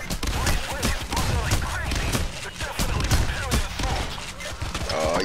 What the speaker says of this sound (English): I'm actually really bad at firing point blank with a magnum, apparently.